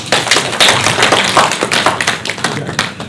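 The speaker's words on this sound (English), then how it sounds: "can we clap hands for the decision?" An audience at the GGM inauguration in 2021 claps hands in a close, loud burst of uneven slaps and taps that rises and dips irregularly for a few seconds.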